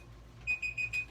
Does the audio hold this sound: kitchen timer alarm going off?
yes